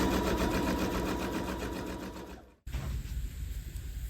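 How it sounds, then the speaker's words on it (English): A sewing machine stitches seams on a quilted placemat in a continuous close whirring run, stopping abruptly, then starting again at a similar pace. "I'm just going to sew them all."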